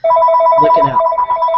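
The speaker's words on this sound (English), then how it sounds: "That's my phone, folks." A telephone rings with a steady repeating electronic trill, loud and close, running the full length while someone briefly speaks over it.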